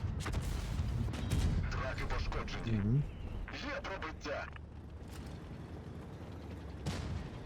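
Booming cannon shots from the French heavy tank Sentinelle in World of Tanks Blitz, a couple of heavy bursts, heard under excited talking.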